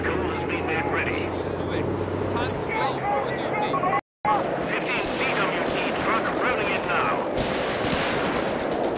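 Gunfire from the WWII strategy game Company of Heroes 3: dense, continuous rattling bursts of small-arms and machine-gun fire, loud and close, with a brief dropout midway, while soldiers' voices call out over the shooting.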